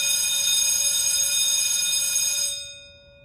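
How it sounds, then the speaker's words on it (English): A school bell rings continuously with a bright, metallic tone for about two and a half seconds, then cuts off and leaves a faint hum. "I'm getting really tired of that bell."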